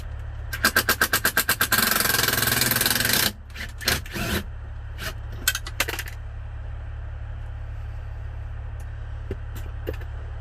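A self-tapping screw drops and rattles inside the cab of a 2018 Kenworth W900, a burst of fast metallic clicks and scraping for a couple of seconds, then a few sharp knocks and taps over a steady engine hum.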